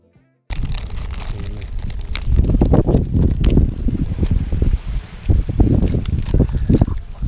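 Strong gusty wind buffets an outdoor noodle-cooking spot set under a table beside a camp stove at a seaside fishing trip, roaring loudly and continuously with rough bursts throughout.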